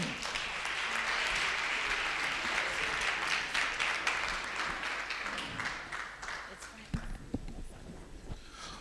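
Participants at a work readiness training day applaud in a full round of clapping that fades over several seconds, with scattered claps and knocks and some voices near the end.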